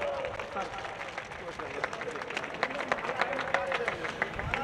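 Audience applause at a nazm recitation gathering, a dense steady wash of clapping from a crowd, mixed with hubbub and voices throughout.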